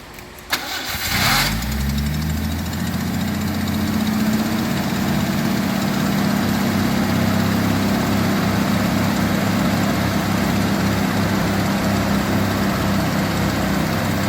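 A 1982 Ford Granada 2-door engine cranks briefly, fires up and settles into a steady, loud idle close by that carries on evenly to the end.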